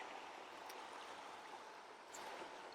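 A small stream flows in Limahuli Garden in Haena, Kauai, Hawaii, a faint, steady watery rush with no distinct splashes and no talking.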